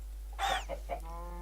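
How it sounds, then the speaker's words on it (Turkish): A chicken in the Minecraft video game gives a short burst of clucks, a few quick, clear calls heard alone over a steady low background hum. "Tavuk."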